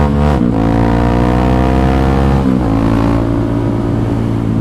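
A 2021 Honda CRF trail motorcycle rides along a rough road, its engine droning loud and steady with a brief dip and shift in pitch partway through, close and continuous with no voices.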